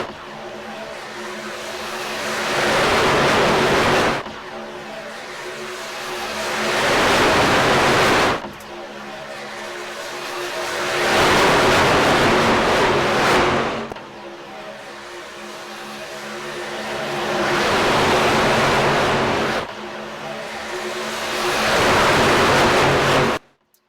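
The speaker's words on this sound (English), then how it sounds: "Listen to these cars go by off our wall cams." Race trucks in a Veterans and affiliated 225 truck series event roar past a trackside wall camera one after another, five loud pass-bys, each swelling and cutting off abruptly in a steady rhythm, with no talk over them.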